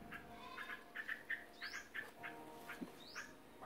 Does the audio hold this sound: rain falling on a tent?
no